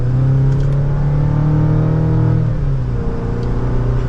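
A 2023 GMC Canyon AT4X pulling away in low-range 2nd gear, engine droning loud and steady as it gently accelerates, then the pitch drops as it eases off.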